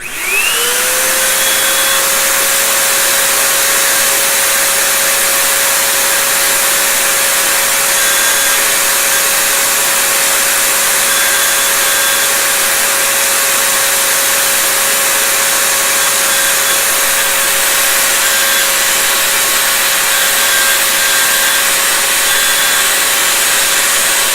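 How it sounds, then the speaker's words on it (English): A record cleaning machine's vacuum starts up and keeps running, rising quickly to a loud, steady whine and rushing hiss that stays constant for over twenty seconds, with no talking. "turn our vacuum on"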